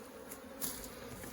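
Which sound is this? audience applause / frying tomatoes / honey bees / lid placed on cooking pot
honey bees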